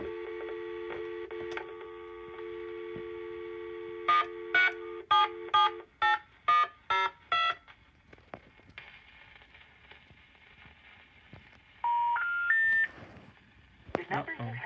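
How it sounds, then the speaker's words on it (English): DTMF tones dial a phone number over a VoIP trunk, beginning with a steady dial tone, then a quick string of evenly spaced clear keypad beeps, and later a short rising sequence of tones with faint clicks. "Accidentally dialed the wrong number."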